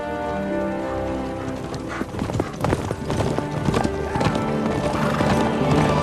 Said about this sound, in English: this is gonna be us riding in on the horses